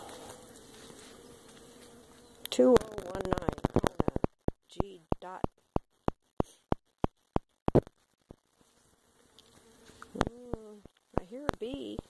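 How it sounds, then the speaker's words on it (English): Honey bees buzz faintly around a hive of resting bees on a rainy day, a soft drone beneath a string of sharp clicks and intermittent talk. "I hear a bee somewhere."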